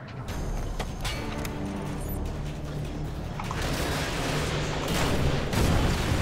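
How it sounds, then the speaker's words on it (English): Dense game combat from Call of Duty: Modern Warfare 2 Spec Ops: sustained rumbling blasts and gunfire that swell toward the end, as AGM missiles fired from a UAV strike the ground, with no clear voices. "A UAV loaded with AGMs is en route to your position. AGM missiles online."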